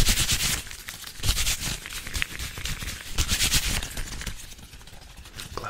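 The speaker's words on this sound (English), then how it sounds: "Are you a fan of glove sounds?" ASMR glove sounds, fast: continuous close-up crinkling, rubbing and snapping of gloved hands, dense and busy with quick bursts and no pauses or voices.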